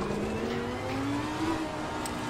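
A Lamborghini race car engine droning steadily at high revs on the Misano circuit in Assetto Corsa Competizione, a continuous loud mechanical tone with a slight pitch rise and no talking.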